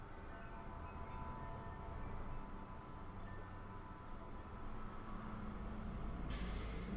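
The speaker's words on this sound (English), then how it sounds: "some kind of truck just went by. That's what that hissy noise was." Truck passing outside with a steady low rumble, faint and distant, ending in a sharp air-brake hiss near the close.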